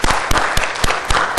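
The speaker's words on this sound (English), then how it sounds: "I think that deserves another big round of applause" A crowd at a UFC Nasdaq opening event gives a short, loud round of applause, with sharp individual claps standing out close by in a brief burst.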